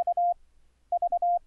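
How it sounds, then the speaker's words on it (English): Two bursts of short, steady electronic Morse code sidetone beeps at one pitch, mixing quick dots with longer tones, separated by a pause of silence. "I'm able to hear my own side tone"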